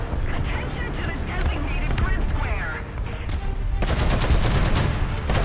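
The 120 mm gun of an American M103 heavy tank in War Thunder fires in loud, sharp booming blasts among rattling gunfire, under excited commentary.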